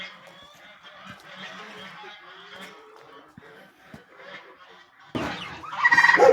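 A neighbour's geese honk in a rural yard, the calls breaking out loud and close near the end after a quieter stretch of background sounds.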